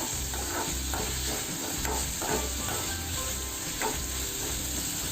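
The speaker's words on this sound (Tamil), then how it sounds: "இந்த தக்காளியை ஒரு 2லேருந்து ஒரு 3 நிமிஷம் நல்லா வதக்கிக்கோங்க" Finely chopped tomatoes sautéing with onion in a pan for keerai kadaiyal, a continuous close sizzle with soft stirring scrapes and a low, uneven background rumble.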